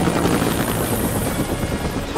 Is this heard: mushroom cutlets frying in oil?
no